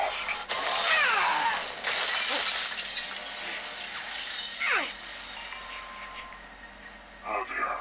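Glass shatters in the video game Call of Duty: Cold War, sharp breaking crashes followed by scattered tinkling shards and a further burst near the end, over a low engine-like hum.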